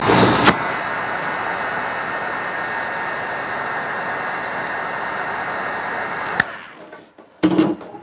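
A heat gun blows hot air onto flexible Wood U Bend wooden trim during a furniture refresh: a loud, steady, close roar for about six seconds, then it cuts off and a brief knock follows.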